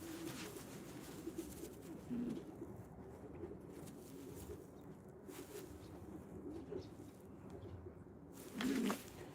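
Racing pigeons of the Huricane 51 line, kept for breeding, coo softly in a loft, with a couple of low throaty coos standing out from quiet background rustle.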